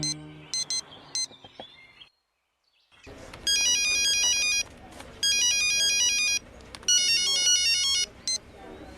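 A phone ringtone plays loudly in repeated chirping bursts, following a brief silence after some earlier electronic tones.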